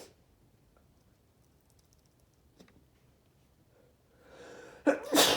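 A single loud sneeze bursts out near the end, preceded by a sharp inhale, after several seconds of quiet room tone with a faint tick.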